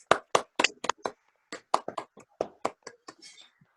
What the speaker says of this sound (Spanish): Os vamos a dar un aplauso a todos los guías que nos habéis acompañado hoy